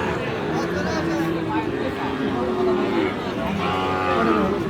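Sahiwal cattle mooing at a busy cattle market, several drawn-out lowing calls overlapping near and farther off, with steady crowd chatter and market bustle throughout.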